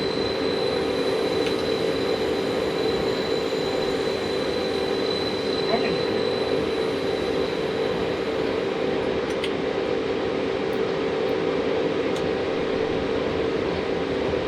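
An OeBB 4010 train runs on the Semmeringbahn in Train Simulator 2019, giving a steady, unbroken rumble of wheels and carriage noise with a faint high whine, constant in loudness throughout.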